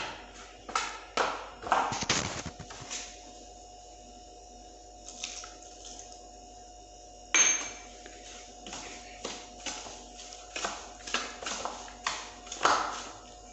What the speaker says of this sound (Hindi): अब हम इन चीज़ों को मिक्स कर लेते हैं।